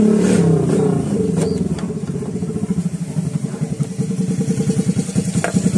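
Yamaha Mio Soul i 125 fuel-injected scooter engine with a worn timing chain, idling close up with a rapid rhythmic ticking clatter after a brief rev at the start.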